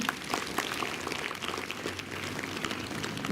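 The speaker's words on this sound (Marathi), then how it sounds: "आपण जोरदार टाळ्या वाजवूया" School audience applauding girls' enrollment, a faint, scattered patter of many hands clapping at a distance, fairly even throughout with a slight swell at the end.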